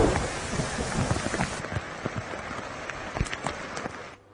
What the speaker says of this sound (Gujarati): કચ્છના માંડવીમાં સવા અગિયાર ઇંચ જેટલો વરસાદ પડ્યો છે